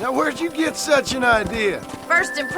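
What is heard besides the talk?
None of the usual background noises is heard.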